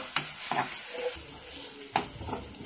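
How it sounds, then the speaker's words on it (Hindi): Spring onions fry with ground spice paste in a pan, giving a close, steady sizzle broken by a couple of stirring scrapes. "प्याज हमारा भुन गया है तो इसमें हम मसाला डाल देंगे"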